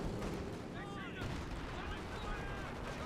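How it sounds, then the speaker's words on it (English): Artillery booms and a strafing run rattle through a 4v4 Company of Heroes 2 battle on the Port of Hamburg map, a dense continuous barrage of gunfire and blasts with a whining aircraft pass, loud and sustained. "Oh, strafing support. That's what's being called in."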